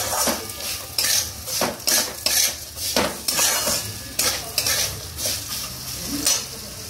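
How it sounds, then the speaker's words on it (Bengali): A sweet sugar mixture is stirred in a frying pan, with a spoon scraping and clinking against the metal in steady repeated strokes over a soft sizzle, close and fairly loud, with no talking. "দেখো আবার ভালো করে নেড়ে নিচ্ছি।"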